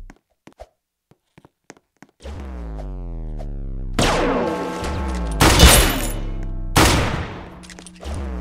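Gunfire rattles in a shooter video game, starting with a few faint taps, then sustained loud automatic bursts with sharp repeated shots echoing over several seconds.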